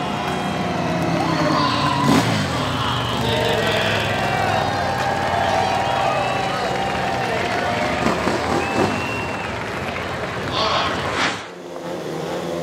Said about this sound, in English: The roar of the engines is something you can only experience in person at the track.